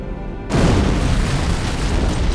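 Sudden loud boom of an antimatter charge exploding aboard a ship in Halo: Combat Evolved, hitting abruptly after a quiet moment and leaving a heavy, sustained rumbling roar.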